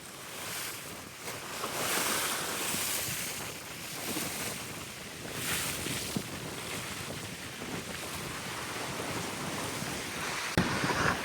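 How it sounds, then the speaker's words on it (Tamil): Storm-driven waves and strong wind batter Point Pedro harbour where boats are moored, a constant loud roaring wash with gusts buffeting the microphone and surges of surf rising and falling, no talking heard. "அந்த அலைகளுடைய வேகம் காற்றினுடைய வேகம் அதிகரிப்பினால அந்த உள்ள நிக்கிற படகுகள் அசைவுகளை பாருங்க"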